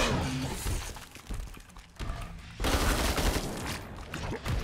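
SCAR rifle gunfire in a zombie video game set in a circus with clown zombies, dense rapid bursts with cracking impacts, a brief lull, then another loud volley.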